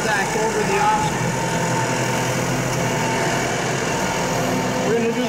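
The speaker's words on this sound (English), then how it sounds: "observe the PneuTrac, and again, the stability of the tractor, the operator, and the tires as they make contact over the obstacle" A tractor on Mitas PneuTrac tires rolls over an obstacle during a tire demonstration, its engine a steady mid-level drone that runs through the whole stretch with broadband mechanical noise and no clear impact.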